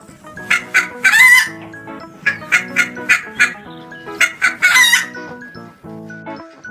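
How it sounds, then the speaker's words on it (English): A hen clucks in a series of short, bright, repeated calls that come in quick bursts with brief pauses between them, close and fairly loud. "hen"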